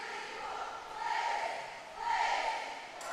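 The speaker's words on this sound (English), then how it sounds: "The Eaganites are giving their post-game cheer to the Burnsvillians." A girls' swim team from Eagan gives a post-meet group cheer at a pool, two swelling crowd shouts in unison, distant and echoing in a large indoor space.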